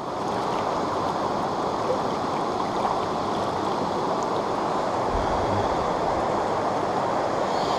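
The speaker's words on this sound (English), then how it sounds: "Oh, look at this pretty brook." A small brook flows steadily at a fly-fishing spot, its broadband wash continuous and fairly loud throughout, with no talking.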